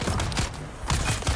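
Disruptor gunfire in the game Dune: Awakening comes as a rapid burst of loud energy shots, then a brief gap and a second burst, with no voices.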